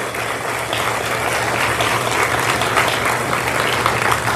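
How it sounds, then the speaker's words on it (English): A crowd claps steadily and loudly throughout at a high school scholarship night, a dense, continuous wash of applause with no pauses. "How about a big round of applause again for these freshmen?"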